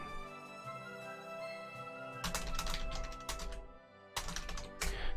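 Quick clattering keystrokes on a computer keyboard come in two short bursts of dense typing, close and moderately loud, separated by a brief pause and a low hum.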